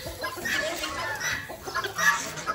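Hens and chicks clucking and cheeping in irregular bursts, close by, with some background noise.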